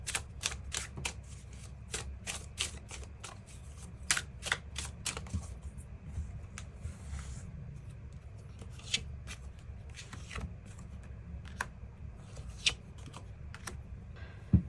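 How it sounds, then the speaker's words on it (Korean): Tarot cards are shuffled and drawn, giving repeated crisp slaps and riffles in quick bursts, with several sharp card snaps over a low steady room hum and no speech. "그 부분 추가 카드 뽑아보도록 하겠습니다"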